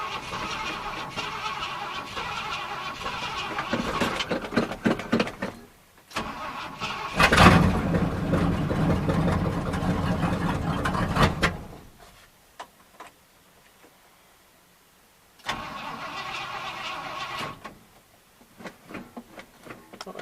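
A 1974 Ford F350 truck is cranked repeatedly on a cold start, with bursts of starter grinding and rough engine noise that cut off into near silence before cranking resumes.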